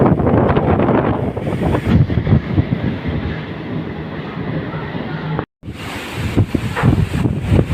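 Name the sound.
strong wind at sea on ferry crossing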